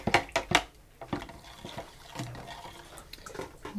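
Ham broth poured from a pitcher into canning jars, uneven splashing and gurgling pours nearby, strongest at the start and then trickling more softly.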